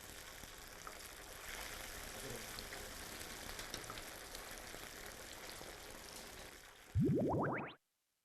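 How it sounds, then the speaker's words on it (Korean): Fish deep-fried a second time in hot oil, a soft continuous sizzle and crackle for several seconds, then a sudden loud burst of bubbling as more batter-coated fish goes into the pot. "튀기를 다시 한번 튀겨냅니다."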